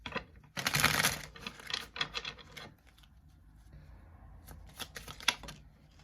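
Close, crisp riffles and slides of tarot cards being shuffled in short bursts, pausing briefly before a few softer final shuffles.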